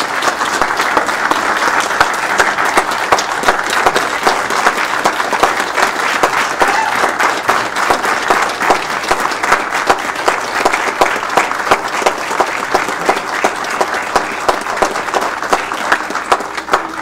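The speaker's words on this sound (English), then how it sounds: "Let's give Marwan a big round of applause." Sustained audience applause at a city council meeting, steady and dense clapping from a full room, continuing at an even level throughout with no talking over it.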